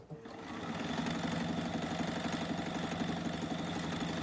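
Sewing machine fitted with a cutter, stitching fabric for a fabric bowl, running steadily and close with a dense, even motor hum and rapid needle rhythm for the whole stretch, no talking.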